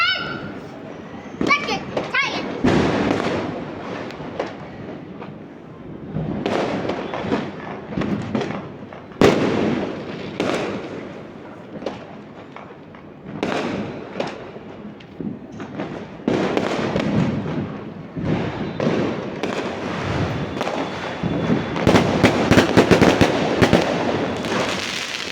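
Diwali firecrackers and fireworks go off near a terrace at night: sharp pops and bangs crackle in irregular bursts, some loud and close. Children chatter and shout throughout.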